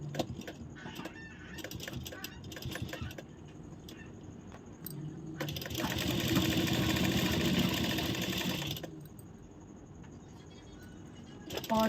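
Sewing machine running a stitch along the bottom hem of a blouse sleeve, a steady mechanical whirr lasting a few seconds mid-clip between quieter handling noises and clicks.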